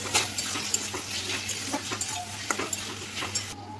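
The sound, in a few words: spice paste, onion and peas frying in a pan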